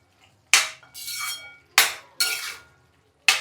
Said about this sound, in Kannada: ಈ ಥರ ಎಲ್ಲ ಚೆನ್ನಾಗಿ ಗೂರಾಡಬೇಕು ಒಂದ್ಸತಿ